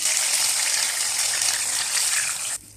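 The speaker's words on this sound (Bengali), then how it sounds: "এখন আমি এটাকে মাছ মাখানো মশলাগুলো আস্তে আস্তে করে ধুয়ে দিই" Water gushes steadily as fish-marinade spices are rinsed from a bowl into a pan while hilsa pulao is cooked. A close, continuous splashing pour cuts off abruptly just before the end.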